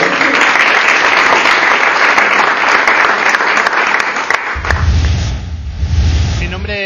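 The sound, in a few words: audience applause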